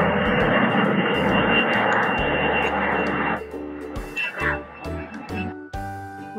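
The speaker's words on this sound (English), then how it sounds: "Right, it's an airplane." Fixed-wing airplane engine droning loudly and steadily for a few seconds, then fading into quieter mixed sounds with tonal music-like notes toward the end.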